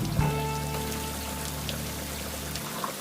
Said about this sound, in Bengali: ঘাসের উপরে বৃষ্টি ফোটা পড়ার দৃশ্য তো একেবারেই মিস করা যাবে না